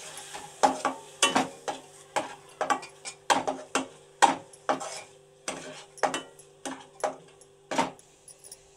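Mutton mixture with onion and coconut sautéed in a pan, spatula scraping and clinking against metal in a steady run of sharp strokes under a low sizzle, close and fairly loud.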